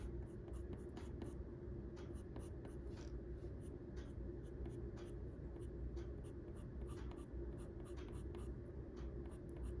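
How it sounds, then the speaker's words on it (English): Colored pencil scratches steadily across paper in soft, continuous strokes, close and quiet against a low background hum during a bird sketch. "I want to use both colored pencils to get the tone in there."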